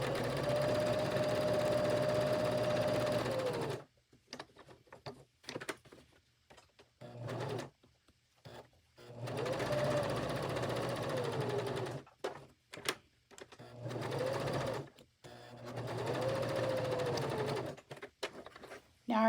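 A sewing machine stitches a US flag appliqué in long, steady whirring runs. Two brief pauses break the stitching, with light clicks as the needle is left down and the fabric is lifted and turned at a corner.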